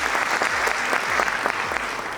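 Conference audience of several hundred people at an agroecology gathering in Kenya breaks into dense, sustained applause, loud and even across the short stretch.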